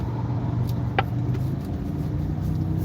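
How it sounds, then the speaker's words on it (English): A car sits in slow road traffic, its engine giving a steady low rumble heard from close by, with a faint brief clack partway through. No one talks. "now we're in traffic again"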